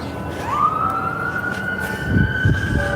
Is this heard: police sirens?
yes